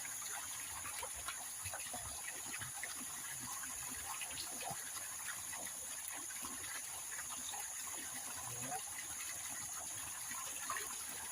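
Tap water running steadily while long beans are washed, a constant faint splashing hiss with small irregular clicks and drips throughout.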